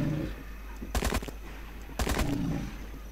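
Two short bursts of rapid gunfire, about a second apart, sound from the dinosaur-hunting shooter game Dino Hunter Deadly Shores, each a quick volley of sharp cracks over a low background.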